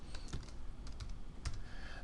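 Short burst of typing on a computer keyboard while naming a layer in Photoshop: a handful of quick, light key clicks in an uneven rhythm, close and fairly quiet.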